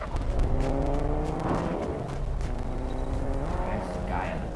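Car engine whirring and revving in the video game Fortnite, a continuous mid-level drone with shifting pitch heard at a distance under background game noise.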